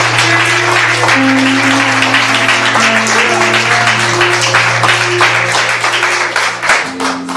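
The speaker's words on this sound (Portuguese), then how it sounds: "Louva o Senhor com as palmas, em nome de Jesus." A church congregation claps steadily together, dense rhythmic hand claps filling the space, with sustained music tones underneath.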